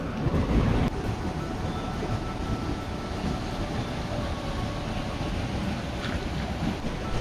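Broad, steady rushing roar of a waterfall in Korea heard up close, a dense continuous wash of falling water with a slightly heavier burst at the start and no voices over it.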